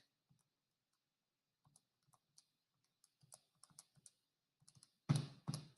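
Buttons clicking on a graphing calculator as a set of data is keyed in: scattered light taps, quiet and close, irregular in rhythm, with a louder burst of presses near the end.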